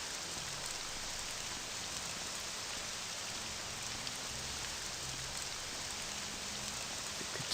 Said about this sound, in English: If it could stop raining anytime soon, I'd appreciate it.